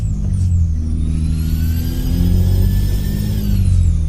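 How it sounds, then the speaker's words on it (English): A Kenworth W900 truck engine in Euro Truck Simulator 2 revs steadily with a deep, loud rumble, its pitch climbing and holding. The sound is close and continuous, with no talking. "I'm over revving it here, but just can't help it."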